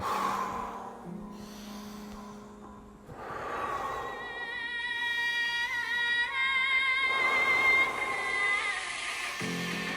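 Deep, forceful breaths from a Wim Hof breathing exercise, with three long airy inhale and exhale swells a few seconds apart over a soft tonal background.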